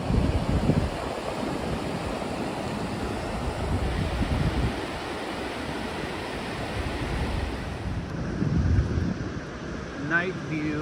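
Ocean surf and gusting wind at Pismo Beach on a cloudy, cold evening, a continuous loud roar of breaking waves with wind buffeting the microphone throughout.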